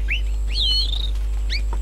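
Creatures in the video game Spore chirping: a few sweeping whistled calls, one long glide and a pair of short chirps, over a steady low hum and no talk.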